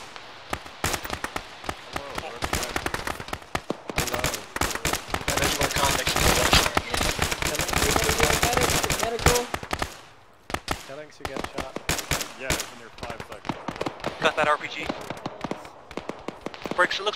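Gunfire rings out in an Arma military game, rapid cracking bursts and dense volleys of shots that pause briefly and then resume, with a voice heard over the shooting.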